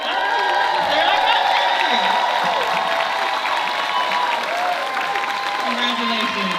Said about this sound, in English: if I could have you stand so we can applaud you